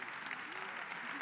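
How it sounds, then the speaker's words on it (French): Applause from a conference audience at a congress debate on disinformation, a short steady patter of clapping with a hint of voices over it. "On peut encore l'applaudir, s'il vous plaît"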